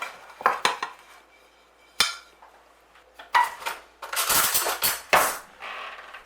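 Plates clinking and clattering up close as a coconut cream pie is flipped between two plates, a few sharp ceramic knocks and scrapes in short bursts separated by quiet gaps.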